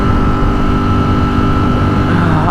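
A 2023 Ducati Streetfighter V4 S pulls hard in fourth gear around 6,000 to 7,000 rpm, its engine a loud, dense and sustained roar under throttle over a brief stretch, with wind rush and no talking.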